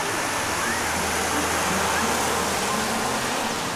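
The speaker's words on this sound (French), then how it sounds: "la première grosse pluie de l'aventure" Heavy tropical rain pouring in Brazil, a dense, steady hiss of downpour filling the whole scene, loud and unbroken throughout.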